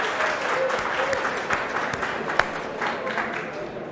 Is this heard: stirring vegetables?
no